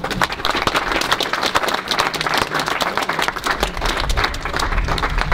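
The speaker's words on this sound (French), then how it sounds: "je crois qu'on peut l'applaudir" Audience applause for artist Gunther Delnig at a Stolperstein laying ceremony in Saverne, a steady dense clapping from an outdoor crowd lasting throughout, fairly loud and continuous.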